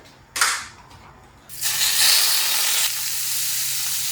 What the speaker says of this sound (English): Let's make a tadka to the pasta shells with a tablespoon of butter